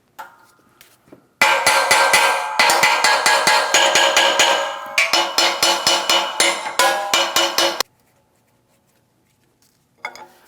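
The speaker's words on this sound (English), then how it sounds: "I'm going to lightly tap with a hammer, just cause a little bit of vibration" A hammer taps a Ford Edge wheel bearing hub held under pressure in a press, sounding as rapid, loud metallic ringing strikes in two dense bursts of closely spaced hits, then silence and one faint knock at the end.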